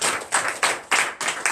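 Congregation at a morning prayer service in Comè, Benin, clapping together in a steady rhythm of sharp, loud bursts roughly three times per second, giving acclamation to Jesus.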